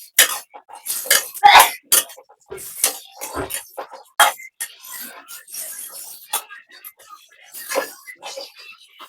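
A cooking pot is set down, then oil and onion go in for a fish bhuna, with irregular metallic clinks, knocks and scrapes over several seconds and some faint vocal sounds between them.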